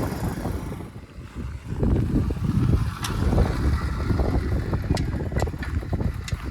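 A Spark SP125C motorcycle pulls away in first gear on sand. Its engine rumbles low and rough and grows louder and steadier as it moves off, mixed with gusty wind noise.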